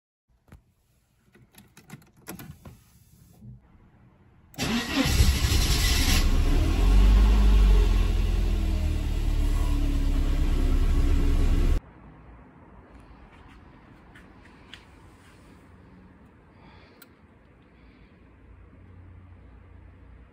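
A few clicks, then a Mercedes-Benz 190E (W201) engine roars to a high steady rev with the throttle valve opened for about seven seconds before dropping back to a low idle.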